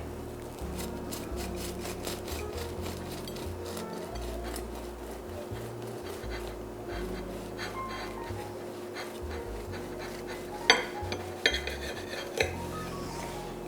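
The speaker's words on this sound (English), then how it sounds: "let me slice one of these beautiful biscuits for you so you can see how delicious they are on the inside" A serrated knife sawing through a fluffy oil-free vegan biscuit, a soft continuous rasping scrape with a few sharper clicks toward the end as the blade meets the board, faint and close, with no talking.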